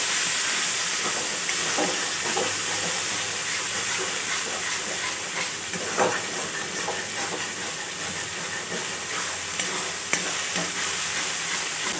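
Spiced masala mixed with whisked sour yogurt fries and sizzles steadily in a pan while being stirred, a continuous close hiss with occasional small pops and scraping stirs throughout, no voices.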